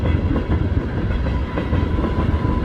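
A locomotive rolls along rails in a Lego film, a loud continuous low rumble with rhythmic clatter of wheels over track joints, no voices.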